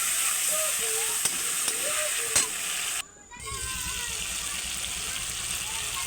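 Cumin-ginger paste frying in a pan gives a steady, close sizzle that cuts out briefly near the middle before resuming, with faint voice-like murmurs in the background.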